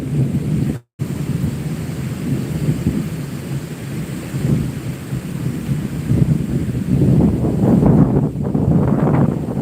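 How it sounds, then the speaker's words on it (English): Strong wind buffets a microphone outdoors, a loud continuous rushing roar that swells and gusts harder toward the end, with a brief dropout near the start. "that wind is so nice"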